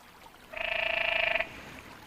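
A single canyon tree frog gives one rapid, pulsing courtship trill lasting about a second, loud and close, standing alone against a quiet background.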